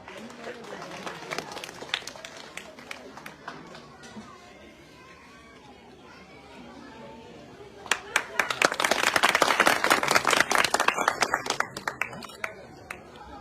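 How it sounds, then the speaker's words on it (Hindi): At a village blanket-distribution gathering, a crowd honoring a guest with a shawl claps in scattered bursts amid voices and chatter, then swells into a louder, denser round of clapping before tapering off. "आप सब लोग उनके भी जोरदार तालियां बजाएं"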